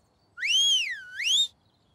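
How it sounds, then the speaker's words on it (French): A single clear, close whistle that swoops up, dips, then rises again in one smooth phrase, alone against silence. "Je sais siffler."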